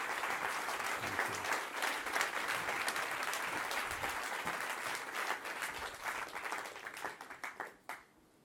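An audience at Davos 2019 claps after a film screening. Full, sustained applause from a large crowd stays even for several seconds, then thins into scattered claps and fades out.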